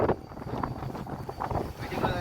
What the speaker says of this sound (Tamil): காற்று உரமாக இருக்குது மக்களே, அதனால நிற்க முடியல ஒரு இடத்துல